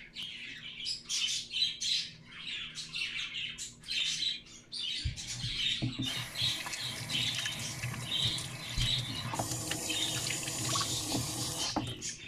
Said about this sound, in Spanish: Cuando echo agua de aquel lado, como que burbujea un poquito acá.